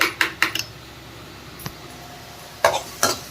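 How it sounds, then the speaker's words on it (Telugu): A spoon scrapes and clinks against a pan while onions are stirred for aloo kurma, giving a few short, close metallic scrapes in two clusters with a quiet pause between them and no talking. "ఇట్లా బాగా కలుపుకోవాలి, సాఫ్ట్గా రావాలి"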